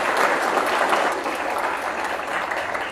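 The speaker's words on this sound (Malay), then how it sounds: "bagi tepukan gemuruh kepada penganjur" University hall audience giving the event organisers a thunderous round of applause, a loud, even wash of clapping from many people that holds steady for three seconds.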